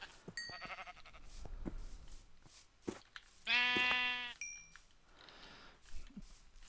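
Sheep in the video game Minecraft give a loud, close bleat in the middle, among quieter clicks, dings and small game noises before and after.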